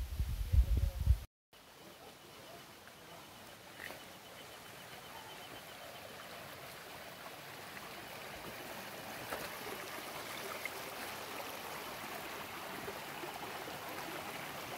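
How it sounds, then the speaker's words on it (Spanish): A river flows steadily on the way to Poza Verde in Xochitlán de Vicente Suárez, a continuous broadband rush of water after a brief low thump at the start, growing slightly louder over time. "un recorrido por este hermoso río."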